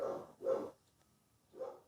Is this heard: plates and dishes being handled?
no